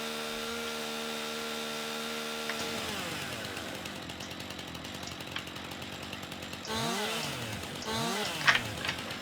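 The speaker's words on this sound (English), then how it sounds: "I'm going to attempt to take out stumps with a chainsaw" Chainsaw in Farming Simulator 19 cutting through tree stumps, a steady buzzing drone that drops and shifts pitch midway, then revs up in two sharp surges near the end, alone without talk.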